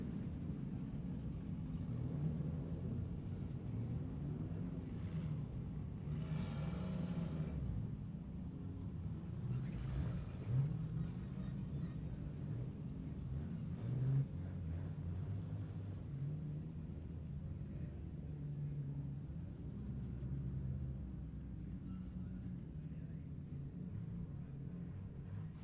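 Stock cars race at a New Zealand speedway, a distant, continuous engine rumble with passing swells of roar that rise and fade across a long stretch, heard without talk.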